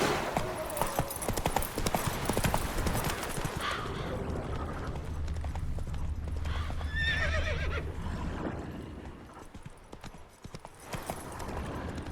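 A horse gallops in the video game The Witcher 3, with quick clip-clop hoofbeats up close and a whinny, the footfalls thinning out later and joined by faint background sounds.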